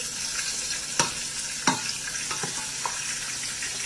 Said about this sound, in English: you can see that our chicken here is sizzling nicely.